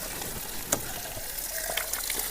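Water gushes steadily out of a double filter system on farm equipment, a faint continuous splashing flow with a few small spatters and no talk.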